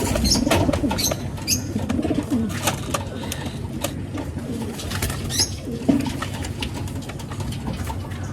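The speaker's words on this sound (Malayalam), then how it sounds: "ഈ പ്രാവിനെ ഈ കൂട്ടിലോട്ട് ഇടാം" Pigeons coo repeatedly in low, throaty bursts, close by, with occasional wing flutters and light knocks in the background.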